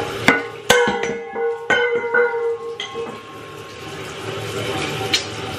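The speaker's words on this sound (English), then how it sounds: "let's go wash it" Running water splashing over hair in a wash before braiding, irregular close clatters and knocks over a steady watery hiss.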